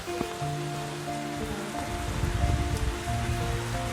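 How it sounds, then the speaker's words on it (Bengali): Heavy rain falls outside during a stormy day, a constant dense patter of drops on surfaces. Steady tonal hums run through it, and no one speaks. "এত বৃষ্টি পড়ছে বাইরে, যেতে পারছি না"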